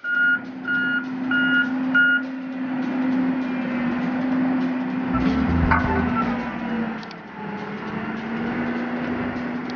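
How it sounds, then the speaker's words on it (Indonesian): A heavy compactor machine moves at a level crossing construction site near a train station, its reversing alarm beeping repeatedly over a steady engine drone with a low continuous hum and occasional clanks. "Alat berat untuk memadatkan atau tumos bergerak lagi ke"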